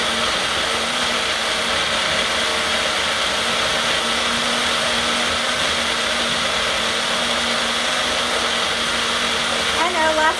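A baby food blender runs steadily while blending two potatoes, a loud continuous whirring motor drone that stays constant throughout.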